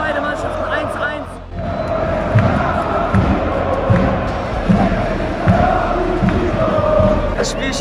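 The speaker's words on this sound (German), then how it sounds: "aber die Ultras singen weiter und weiter" AC Milan ultras keep singing in the stadium after a Milan vs. Inter derby ends, a steady mass of crowd chanting filling the stands, loud and continuous with rhythmic swells and occasional louder bursts.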